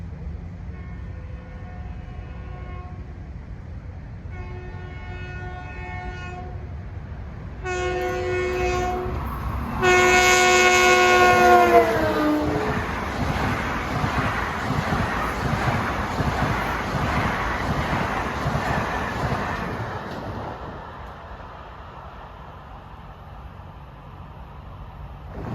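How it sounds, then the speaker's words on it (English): LIRR train 2068 runs eastbound from Grand Central to Ronkonkoma on the fast Hicksville to Ronkonkoma stretch. Its horn blasts in several rising bursts as it nears, then the train rushes loudly past and fades, with wind buffeting the microphone. "approaching eastbound at 6:44 is train 2068, Grand Central to Ronkonkoma"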